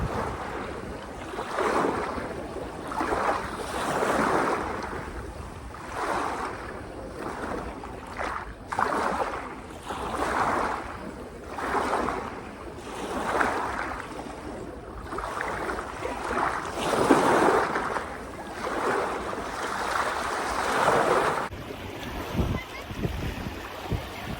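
Sea waves wash in at a beach in a steady, repeating rhythm of soft surges under wind noise. A voice is heard at times.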